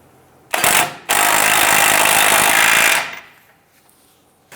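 A power impact tool rattles loudly to snug down a tie rod end nut on a 2002-2008 Dodge Ram 1500 front hub, one short burst, a brief pause, then a sustained two-second hammering run that cuts off.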